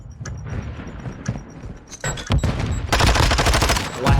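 Gunfire in a competitive Call of Duty: Modern Warfare II match, scattered single shots leading into a dense, loud automatic burst at close range, with faint voices beneath.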